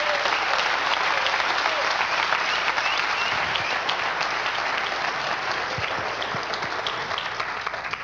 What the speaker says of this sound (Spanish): Ese aplauso sea para el Señor Jesús.